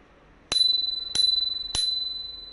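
Three crisp, evenly spaced rings from the handlebar bell of a Volta VT1 electric scooter, each a bright metallic ding that lingers and fades before the next, loud and close in a quiet room.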